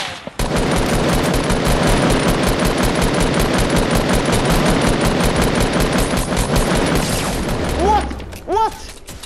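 Sustained, loud automatic gunfire from a Fortnite battle royale match, a dense rapid stream of shots lasting several seconds before it stops, followed by a few brief tonal game sounds.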